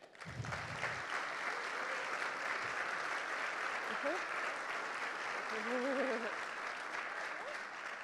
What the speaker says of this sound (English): Please join me in applause as Chancellor Pumariega comes to the stage.